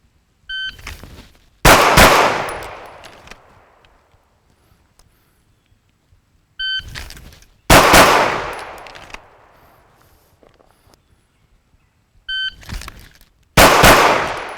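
A shooting drill at a range, where each short electronic timer beep is followed by a loud, closely spaced burst of two gunshots with a decaying echo, repeating three times with pauses between.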